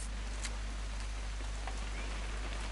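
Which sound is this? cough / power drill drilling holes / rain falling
rain falling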